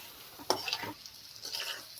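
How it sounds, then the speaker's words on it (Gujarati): Potato pieces frying in hot oil with spices, a soft steady sizzle broken by a couple of sharp scrapes as a spoon stirs them in the pan, close up and faint. "હવે આપણે બટેકાને તેલમાં 1 મિનિટ માટે સાતળી લઈએ"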